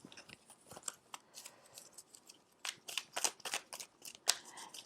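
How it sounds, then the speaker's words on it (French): Tarot cards are shuffled, flipped and turned face down by hand, giving quiet close papery snaps, flicks and slides in quick irregular bursts with no talking. "on va revirer les cartes à l'envers"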